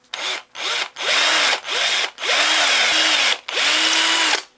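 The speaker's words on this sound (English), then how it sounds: "let's drill this hole bigger so we can get the rivet in" A power drill enlarges a hole in a wooden J-plug trolling lure to take a rivet, running in five loud bursts with short pauses between, the pitch sagging as the bit bites and rising again as it frees up.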